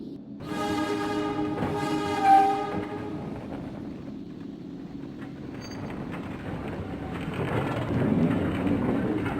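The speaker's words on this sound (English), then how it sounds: "There it is. The train to Metropole." A train pulling in within the point-and-click adventure game Primordia: a sustained rumbling roll with a long, loud horn-like tone at the start, then a steady mechanical clatter that carries on to the end, with no talk.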